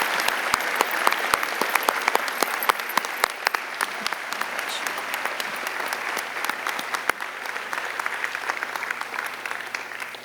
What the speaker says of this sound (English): if you could all join me in a big round of applause for all of our outstanding honorees today.